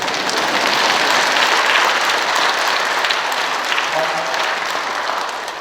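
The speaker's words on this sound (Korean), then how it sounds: "혹시 미사 때 이렇게 박수 치거든요." A church congregation applauding during Sunday Mass, loud sustained clapping from a large crowd filling the space evenly for several seconds, with no clear speech on top.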